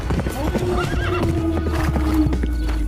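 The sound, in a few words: horse neighing and hooves clip-clopping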